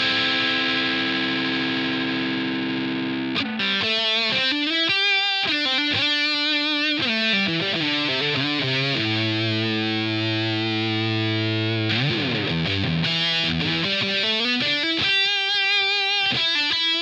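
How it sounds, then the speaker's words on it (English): Heavily distorted electric guitar run through a Boss HM2-style distortion tone on a Line 6 Helix, loud sustained chords and riffs with a short quiet lead-in, then dense buzzing saw-like playing throughout without any voices. "Rolls into distortion pretty fast."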